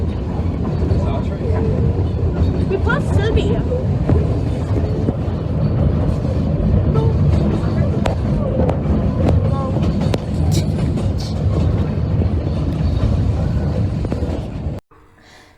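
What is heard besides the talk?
Puffing Billy steam train passing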